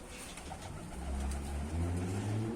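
Soft, low cooing from domestic pigeons, including a black-headed variety, builds over a couple of seconds, a rolling murmur among faint outdoor background noise.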